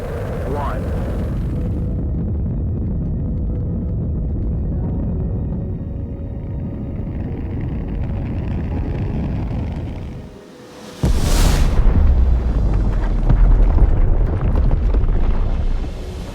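A warhead launch and explosion effect in a cinematic sci-fi battle for Earth: a long, steady roar and rumble that cuts out briefly, then bursts into a louder, broad explosive blast that carries on to the end.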